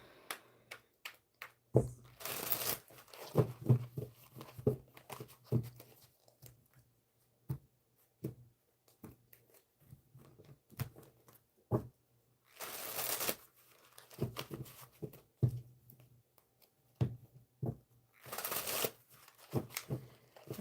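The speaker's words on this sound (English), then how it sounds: "All right, Sarah, I'm going to do one more shuffle." Tarot cards being shuffled by hand in several bursts, with crisp riffles and soft taps between them, close and fairly quiet.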